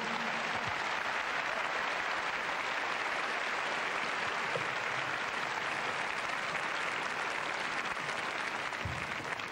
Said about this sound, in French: Philippe Candeloro, que je vous demande d'applaudir.